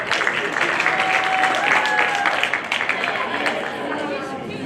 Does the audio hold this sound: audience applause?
yes